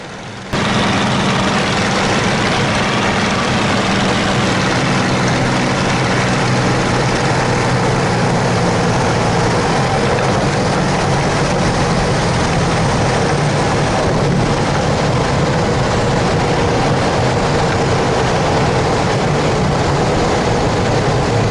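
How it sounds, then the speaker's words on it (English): A Curtiss P-40 Kittyhawk on landing approach to runway 27 at Gatineau, heard as a constant loud, dense engine roar with broad noise that stays steady throughout, with no talking. "Let's watch him land the Curtiss P-40 Kittyhawk."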